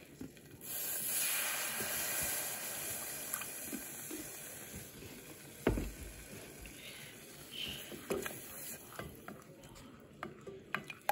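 Milk added to a cooking roux as it simmers, with a soft hiss and sizzle under gentle stirring and scraping, plus a few faint clinks and taps, all close and quiet.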